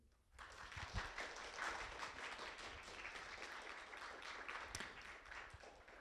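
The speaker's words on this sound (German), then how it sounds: "ihr könnt euch auch gerne selbst applaudieren" Warm, steady applause from a volunteer team at a neighbourhood culture festival, many hands clapping together, starting after a short pause and holding at an even level throughout.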